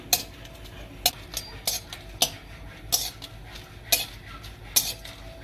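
Dried red chillies being stirred in a hot pan, giving a series of sharp spoon-against-pan scrapes and clinks at roughly one per second over a faint sizzle.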